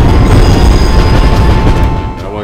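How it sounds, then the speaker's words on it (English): In The Warriors video game, a train rumbles past along the tracks, a loud, heavy, continuous roar with clattering that fades slightly toward the end. "I don't want to get killed by a train again."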